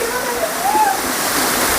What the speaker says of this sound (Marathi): बघा मित्रांनो सुंदर असा धबधबा या ठिकाणी आहे